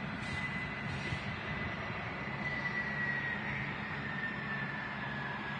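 Phenom 300 business jet at Manchester Airport, its engine giving a steady, moderately distant roar with a thin high whine running throughout.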